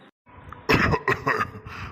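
A few rough coughs or throat-clearing bursts in quick succession, fairly close and moderately loud, with a brief quiet gap before them.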